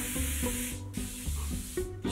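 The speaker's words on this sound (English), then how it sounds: "Should I try to spray my neck?" Short hissing bursts of spray-on self tanner repeat in quick succession, close and fairly loud, with faint background tones between them.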